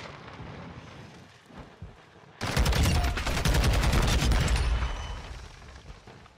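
A SCAR assault rifle in the video game Modern Warfare 2 fires a sustained, loud burst of rapid shots lasting about two seconds, following quieter game ambience and then fading into a rumble.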